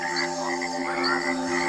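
Cane toads croak in a steady, droning chorus, a buzzing trill with layered pulsing tones that holds loud and unbroken throughout.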